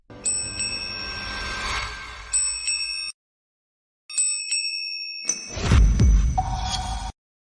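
A golden lantern bell is shaken at an auction in bright, sustained metallic rings, two bursts separated by a silent gap, the second ending with a louder swelling rumble.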